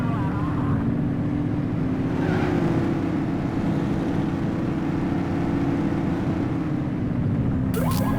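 Car engine roaring at speed in the LCPDFR police mod for a driving video game, a steady loud drone holding across the whole stretch with a brief sharper noise near the end.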